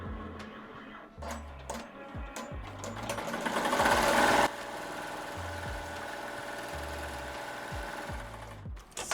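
An embroidery sewing machine satin-stitching on a shirt runs steadily with a rapid mechanical hum and rhythmic thumping, rises to a louder whirring burst, then cuts back to a slower, quieter pace, heard close without talking.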